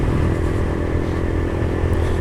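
A motorcycle ridden along a road with a steady engine drone and wind rush, continuous and close throughout, with no voices.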